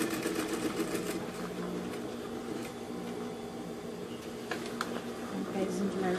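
A sewing machine runs a continuous, even whir as it stitches a pocket seam onto a bag, a steady close mechanical drone with small ticks and shifts throughout.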